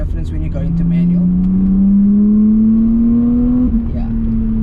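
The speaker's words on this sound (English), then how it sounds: "It gets louder as in manual you can hear the car is louder." Lexus IS 300 engine revving in manual mode, a loud close drone rising steadily in pitch as the car accelerates, then a brief dip at a gear change, heard from inside the cabin.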